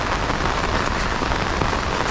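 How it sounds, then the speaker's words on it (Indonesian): Heavy rain pours down in a rural village along a muddy road, a loud, continuous, dense hiss of drops with no voices. "Di bawah guyuran hujan."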